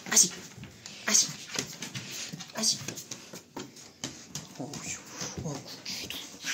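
A small, very excited dog moves about close by, giving soft whimpers, snuffles and panting with brief sharp yelps, while someone speaks to it nearly throughout.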